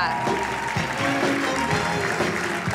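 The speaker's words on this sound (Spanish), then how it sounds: "cómo acompaña con esos aplausos" Dense, continuous applause from the crowd at a Miss Universo Argentina pageant as contestants walk the runway, loud and sustained, with music and an announcer's voice running underneath.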